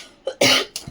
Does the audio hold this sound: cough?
yes